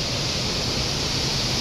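Typhoon wind and heavy rain roar steadily as a dense, unbroken wash of noise, loud and close, with no voices.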